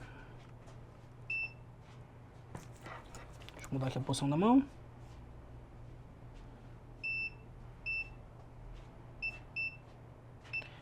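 Several short, high electronic beeps in quick pairs near the end from a multimeter in continuity mode testing a phone circuit board, following someone speaking; faint background hum throughout.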